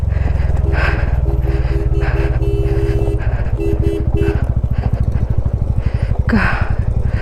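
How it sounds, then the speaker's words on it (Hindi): A TVS Ronin motorcycle rides a slippery mountain road between Pangong and Hanle, its engine chugging loud and steady throughout with a rapid pulsing rhythm, while wind rushes past and a voice speaks briefly over it. "ओ भैया, फिसलती हुई बाइक,"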